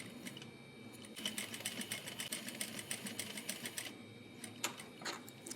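A sewing machine top-stitches a fabric strap for a zipper pouch with a steady, rapid chatter of needle strokes. It is fairly quiet and close, with a brief slowdown midway before it runs on and then stops with a few final stitches.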